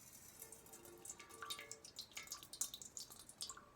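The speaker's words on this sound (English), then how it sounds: "actually when I'm pouring it out, let's watch it." Liquid is poured out of a jar that has crystals forming in it. It comes through as faint, close trickling and dripping with small irregular splashes and no talking.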